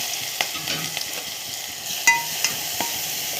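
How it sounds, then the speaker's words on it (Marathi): Mustard seeds, cumin and finely ground green chili sizzle in hot oil in a cooking pot, a continuous close frying hiss with scattered crackles and pops. "पातेल्यामध्ये तेल ठेवले आहे, तापलेलं आहे. थोडीशी मोहरी, थोडेसे जिरे आणि आपण ही हिरवी मिरची बारीक केलेली"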